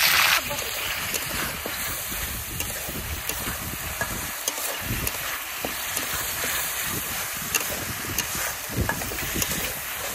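Onion-garlic paste and garam masala fry in hot oil, a close, dense sizzle broken by repeated stirring scrapes and light splatter throughout.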